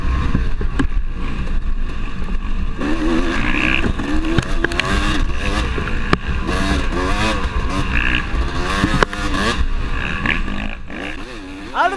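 A Honda dirt bike engine screams and revs through a fast field section during a woods race, the close rider's motor rising and falling through gear changes, with another bike buzzing just ahead.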